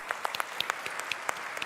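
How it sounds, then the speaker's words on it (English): An audience claps for the panelists at a plenary session, a light scattering of distinct claps, fairly faint and sparse, heard alone. "Let's hear a big applause for our panelists."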